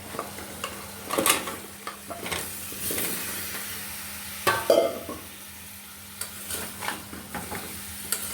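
Sweet pumpkin is tipped into fried spice paste and stirred, with scraping clatters of the spoon in the pan rising over a constant close sizzle, strongest around the first and fifth seconds.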